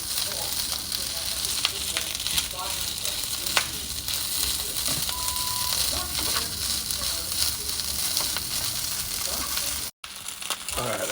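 Barley sausage kiszka fries in a pan on a stovetop, giving a steady, close crackling sizzle with occasional sharper pops and scraping stirs; the frying runs on without talk before a brief dropout near the end.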